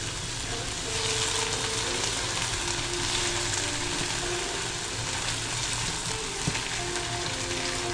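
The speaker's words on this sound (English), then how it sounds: "we gotta continually be mixing the rice into it" Risotto rice sizzles in a pan on low-medium heat while being stirred, a continuous soft frying hiss with occasional scraping and clicks from the spoon.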